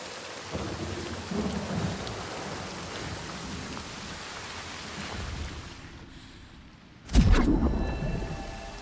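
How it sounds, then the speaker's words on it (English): Constant rain and a rumbling thunderstorm in the video game Senua's Saga: Hellblade 2, steady downpour hiss for several seconds before a loud, close thunderclap bursts in and rolls on. "The constant storm."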